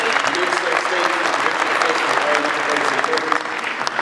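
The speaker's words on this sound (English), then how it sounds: "A big round of applause for" Steady, dense applause from an audience at an ICT facility presentation, continuous and fairly loud with a murmur of crowd voices mixed in.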